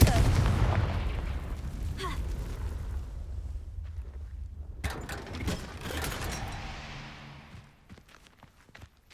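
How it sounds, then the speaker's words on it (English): The Confringo blasting spell goes off in the video game Hogwarts Legacy. A heavy fiery burst opens the moment and slowly fades, followed by scattered thuds, crackles and footsteps. "Confringo."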